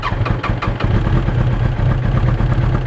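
A 1992 Suzuki Katana 750 GSX750F motorcycle that has not run in a while idles close by, its engine settling from a few uneven pulses into a steady low throb.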